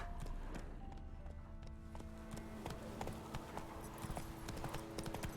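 Roach, the horse in The Witcher 3 video game, galloping with rapid, rhythmic hoof clops that run continuously over a steady outdoor background, fairly faint and with no one talking over it.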